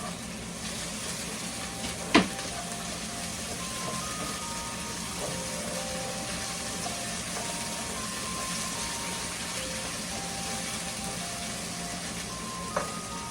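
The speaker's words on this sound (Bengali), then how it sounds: "এবার আমি চিংড়ি মাছটা অ্যাড করে দেবো। এটাও কিছুক্ষণ আমাকে ভেজে নিতে হবে।" Shrimp frying in a pan with onion and garlic, a steady soft sizzle running throughout with occasional faint clinks of a utensil.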